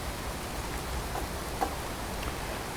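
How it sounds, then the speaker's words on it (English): Steady rain falls in the Fallout 4 game world, a continuous soft hiss with faint scattered drop ticks, no voices. "Raining."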